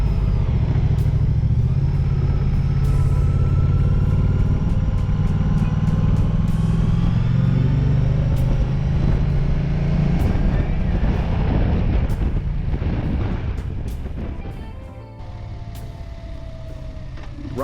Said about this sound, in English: The engine doesn't sound too smooth. It sounds a bit raw,